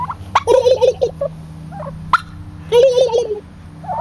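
Male turkeys puffed up and ready to fight let out loud, close gobbles. Several quick warbling bursts are separated by short pauses.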